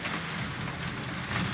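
Heavy rain pours down in a steady, dense hiss that holds at an even level for a brief moment.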